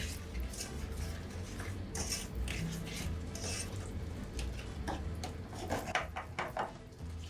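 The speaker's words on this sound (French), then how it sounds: "Une fois que le beurre est fondu, on va mettre le sucre. Et on mélange les deux." Melted butter and sugar stirred together in a pan for a tarte Tatin, heard as faint scraping and clinking of a utensil against the pan with a few light knocks, with no voice over it.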